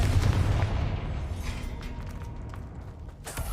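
A Confringo fire spell explodes in the Hogwarts Legacy video game, a deep rumbling boom that fades slowly into a low roar, loud and close with no talking.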